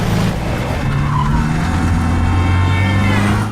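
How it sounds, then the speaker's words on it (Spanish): Tires skid and squeal loudly in a film car chase between two cars, engines roaring underneath, the screech sustained for several seconds before cutting off abruptly at the end. "hay una persecución dentro de la película entre 2 coches."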